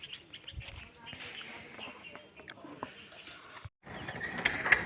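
Pigeons on a rooftop loft give soft coos and chirps, mixed with wing flutters and rustling, while someone talks over them and the sound briefly drops out near the end.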